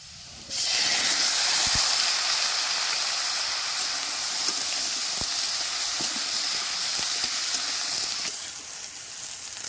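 Kalmi greens stems frying in a pan, cooked village-style alongside shrimp with turmeric, give a loud steady hiss and sizzle that starts abruptly and holds for several seconds, with a few faint clinks.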